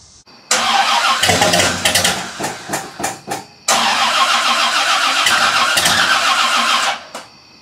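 An Oldsmobile Cutlass engine cranks and fires for the first time, with rapid starter bursts, a catch, then a second start that settles into a loud, close running roar before cutting off.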